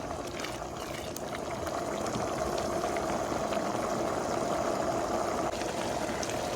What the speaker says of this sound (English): You want to let it go for like 2 minutes once it starts boiling